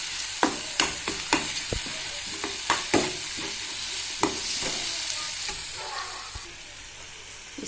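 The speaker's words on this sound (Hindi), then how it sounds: "अभी इसको अच्छे से मिक्स कर दूँगी।" Turmeric and garam masala are stirred in a hot pan, with sharp spoon knocks and scrapes against the metal at first, then fading into a softer steady sizzle.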